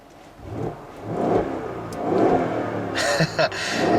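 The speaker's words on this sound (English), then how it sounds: "you can hear it has a very nice sounding exhaust" A 2016 Mercedes-Benz GL63 AMG SUV revs and accelerates in sport mode, its exhaust butterfly valve open, with a deep, muted exhaust note, rising in a few surges, with a couple of sharp bursts near the end.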